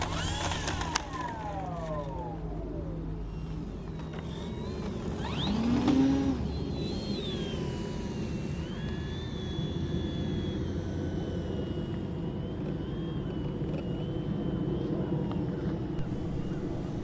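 An Avios Grand Tundra RC model airplane with an electric motor comes in to land, first over trees and then past a pond. Its thin motor whine rises and falls against steady outdoor background noise, and the plane stays mid-distance throughout.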